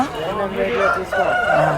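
Chickens and a rooster at a weekly Thursday poultry market in Galiveedu crow and cluck loudly and close, several calls overlapping with market bustle.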